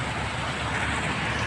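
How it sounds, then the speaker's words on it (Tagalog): Heavy rain falling outside a house, heard as a steady, dense broadband hiss that stays even and fairly loud throughout, with no voices. "Malakas ang ulan."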